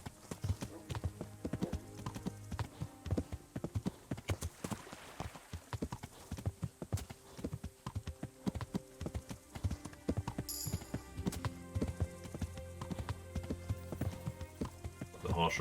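Horse hooves clip-clop steadily through the medieval game Kingdom Come: Deliverance, a quick repeating trot with the odd whinny over a game music bed, while someone talks over it.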